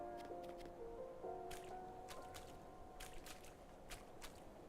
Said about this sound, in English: I think it's because this tile is bordering the water that it sounds so wet.